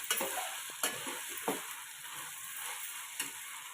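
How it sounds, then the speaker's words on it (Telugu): Onion pieces are stirred in a frying pan for veg pulao, a soft sizzle under a handful of sharp spatula scrapes and taps, quiet and close with no voices. "ఇలా ఒకటి రెండు సార్లు కలుపుకుంటూ ఉల్లిపాయ ముక్కలు మొత్తం మంచి కలిసేలాగా చూస్తాము"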